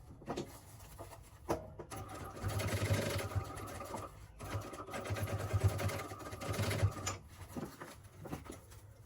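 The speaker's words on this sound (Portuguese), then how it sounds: "Eu não tô botando corte automático da máquina, mas eu tô fazendo retrocesso, tá?" A domestic sewing machine stitches a zippered pouch in bursts of rapid mechanical whirring, stopping and restarting as it sews and reverses to backstitch, with short pauses and light handling noises between runs.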